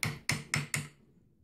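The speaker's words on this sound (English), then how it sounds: "I will just use the hammer and the wedge to keep that pushed over tight" Four sharp metallic hammer taps on a wedge packing Danish cord weaving on a chair rail, in quick, even succession, close up, the last ringing out into quiet.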